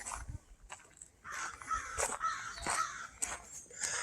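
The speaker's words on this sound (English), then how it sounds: "Sounds like the birds are waiting for some scraps." Crows caw repeatedly along a wooded hiking trail near picnic tables, harsh calls coming in uneven bursts at moderate distance, with no talking.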